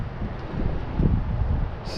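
Low, rumbling wind buffets the microphone continuously, a steady muffled roar with gusty swells and no clear voices.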